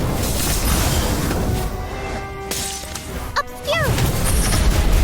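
Incendio fire spell cast in the Harry Potter Magic Awakened video game, a loud crackling, crashing burst of game effects with bright tonal chimes and a rising sweep, surrounded by busy battle noise.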